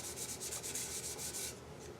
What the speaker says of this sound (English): so I'm going to sand, get it even closer